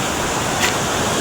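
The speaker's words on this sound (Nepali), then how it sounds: "यो खोला चाहिँ बहुत ठुलो हो" A very large river rushes past in a steady, dense roar of broadband water noise. It is loud and constant throughout, with no voices.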